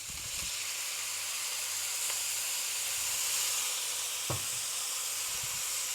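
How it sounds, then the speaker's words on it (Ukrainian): Continuous loud sizzling and hissing as a little water is poured into a hot pan of meat and potatoes, steady bright frying noise with a few faint clinks. "Тепер додаємо водички, але небагато."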